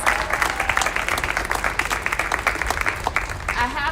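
A crowd at the School Without Walls 50th anniversary kick-off celebration gives a sustained round of applause, steady overlapping clapping with cheers and background voices mixed under it, fairly loud and near.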